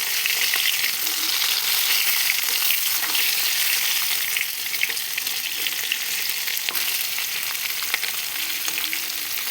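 Koi fish sizzle steadily in hot oil in a wok, a close, continuous, even crackle with no pauses and no voices.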